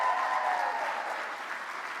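An audience at a teen fashion runway show applauds designers and models, a dense, steady wash of clapping at moderate volume that tapers slightly toward the end.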